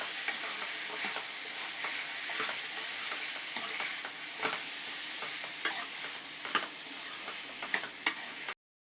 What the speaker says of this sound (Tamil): இது 3ஐயும் இதில் சேர்த்து நல்லா வதக்கிக்கலாம்